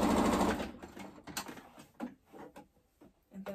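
Sewing machine stitching fabric for a pleated face mask: a brief close mechanical whir at the start, followed by faint, scattered clicks and handling sounds, quiet overall.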